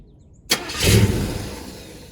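A 1975 Buick convertible engine cranks and tries to start, with a sudden loud burst of turning over that swells into a rough, uneven churn and then slowly fades without settling into a steady idle.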